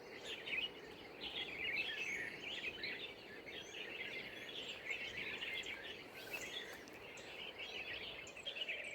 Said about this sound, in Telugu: పక్షులు చాలా మంచిగా అయితే అరుస్తున్నాయి